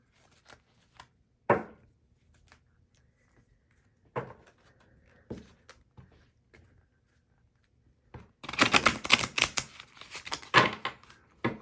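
Scattered soft tarot card slaps and taps in a quiet room, then a quick burst of riffling as the tarot cards are shuffled near the end.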